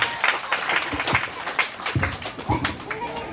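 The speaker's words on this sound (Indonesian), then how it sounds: "Tepuk tangan buat keluarga Kembat." A crowd claps in scattered, uneven applause at a community Christmas celebration, with voices talking over it throughout.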